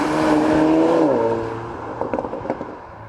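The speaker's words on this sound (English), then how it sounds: "it's really a lot of fun to drive this car" A Cupra Ateca Limited Edition driving on a road, its engine note rising and then dropping as it eases off, followed by a few light knocks and rattles; close, steady and loud at first, then quieter, with no talking.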